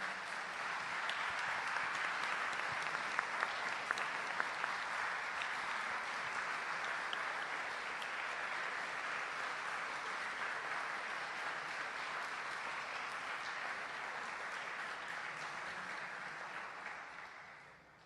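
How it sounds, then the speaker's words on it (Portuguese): Sustained audience applause at the inauguration of the UFRJ FM 88.9 radio station, a dense, even roar of many people clapping that holds steady and fades out near the end. "Queria pedir uma salva de palmas para todo mundo que eu citei aqui."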